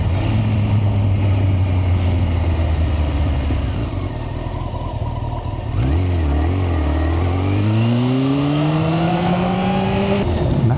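A Honda CBR954RR Fireblade engine with a Micron exhaust idles with a steady throbbing drone, then revs up and rises in pitch through the second half, loud and close.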